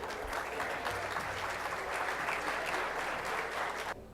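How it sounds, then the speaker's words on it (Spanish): An audience at the CADE 2014 business forum applauds a presidential candidate: dense, sustained clapping from a large crowd, even and loud throughout, cutting off abruptly at the end. "Un fuerte aplauso, por favor."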